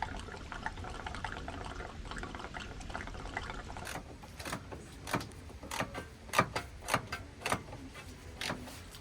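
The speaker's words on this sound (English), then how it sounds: "take the hose off the radiator and fill up whatever water we lost" Water pouring and splashing steadily into a Scania truck radiator in the woods, then a series of louder gurgling glugs and sloshes as the flow turns uneven.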